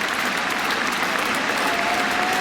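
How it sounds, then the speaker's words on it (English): Sustained applause from a cricket crowd at an England v India Test match, greeting Cook on his final Test; dense, steady clapping throughout with a faint voice underneath. "I think this applause may go on till lunchtime, actually."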